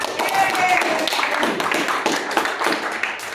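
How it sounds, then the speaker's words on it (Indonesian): A class claps during a student teacher's lesson, with quick, scattered claps mixed under ongoing talk throughout. "tepuk tangan buat kita sama Iba"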